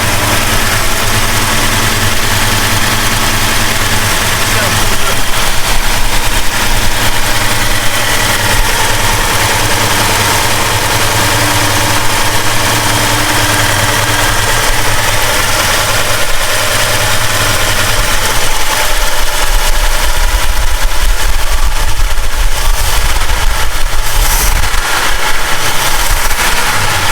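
A 1969 Plymouth Road Runner's 440 V8 idles with a deep, loping rumble, steady and loud throughout, its low throb slightly uneven as it runs after sitting unused for over 20 years.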